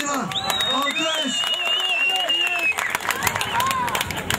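A crowd at a Turkish village harvest festival in Çamlıpınar applauds with scattered clapping, while voices and a whistling or tonal sound carry over the top.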